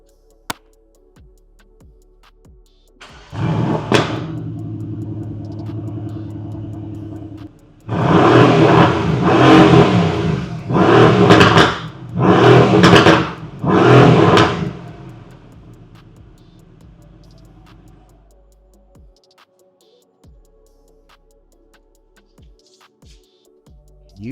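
A stock Mercedes-AMG GT R with its catalytic converters intact starts with a deep bark and settles into a rumbling idle, then gives four loud, sharp revs close by before dropping back to a quiet idle.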